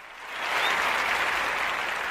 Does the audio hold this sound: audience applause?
yes